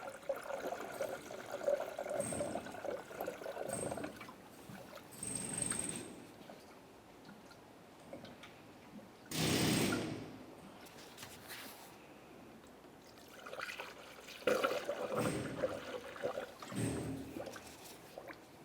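Coolant poured into a radiator funnel on a Ford Explorer Sport Trac, heard as several separate bursts of gurgling, splashing liquid with quiet gaps between them, close and moderately faint.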